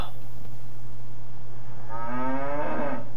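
A cow moos inside the video game Cryostasis, set aboard a ship: one long, loud, drawn-out bellow with rising and falling pitch in the second half, over a steady low game hum.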